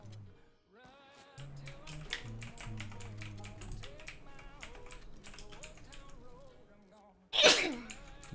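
A single loud, sharp sneeze bursts out near the end during a gaming session, following several seconds of steady background game sounds and music.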